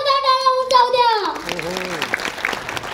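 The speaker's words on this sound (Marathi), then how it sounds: "उपस्थित मान्यवर, पाहुणे आणि कलाकार यांच्यासाठी जरा जोरदार जोरदार टाळ्या होऊन जाऊ द्या" A speaker's amplified voice ends, and the audience at a community unity ceremony breaks into scattered, then fuller clapping that continues steadily, with a second voice briefly heard over the applause.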